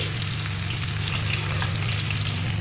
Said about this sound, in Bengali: এই জন্য আলু আর ঢাড়সটাকে ভেজে আনছি